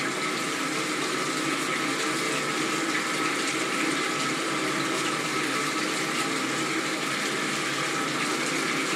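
Water churns steadily in a spa foot bath, a constant close bubbling and rushing wash that stays loud and unbroken from start to finish with no voices over it.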